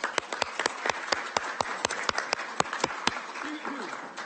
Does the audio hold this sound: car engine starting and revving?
no